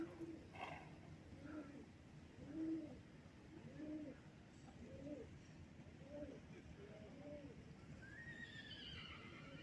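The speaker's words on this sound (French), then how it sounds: "il y a des chevaux qui se font la causette entre eux, chacun dans leur box" Horses whinny back and forth in their boxes at a stable in a park in October, repeated nickers and whinnies at moderate distance, with pigeons cooing nearby and low background murmur.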